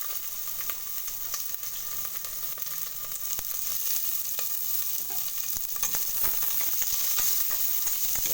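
Cumin seeds and curry leaves fry in hot oil, giving a steady, moderately quiet sizzle and crackle with occasional small pops and stirring scrapes throughout.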